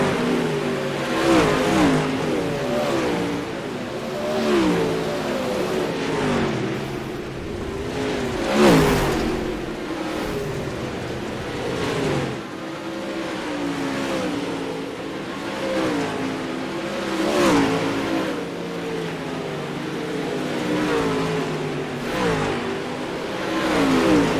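Pro Late Model race cars lapping Big Eldora dirt track, engines roaring and revving continuously as cars pass in waves, loud and close with rising and falling swells.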